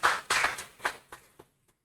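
A short burst of clapping from an audience at an International Day of Yoga event at a resort in Antigua, loud at first, then thinning out and fading within about a second and a half.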